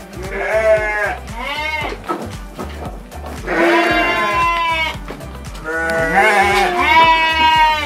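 Garut sheep in a pen bleat loudly and close, several overlapping wavering calls in bursts with brief pauses between them, over a background of pen noise.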